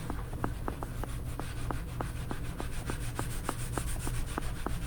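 Pad rubbing surface wax onto painted wood, a soft steady scrubbing hiss punctuated by regular light taps or strokes, close and continuous with no talking.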